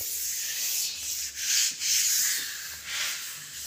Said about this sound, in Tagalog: lilihain ko talaga yan